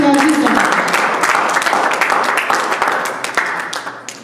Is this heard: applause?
yes